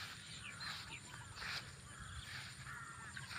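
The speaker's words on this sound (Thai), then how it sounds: "เสียงอีกา อีกาตื่น" Crows caw repeatedly in the distance over a steady, noisy outdoor background at a rice field after heavy rain, several harsh calls spread across the clip.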